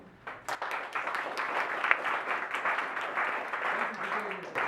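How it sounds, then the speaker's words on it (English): Audience applause for a guest, James Laughlin, at a Firestone Park community-based play, scattered claps building into a moderate steady clapping that continues for several seconds. "Round of applause, please, for Mr. James Laughlin."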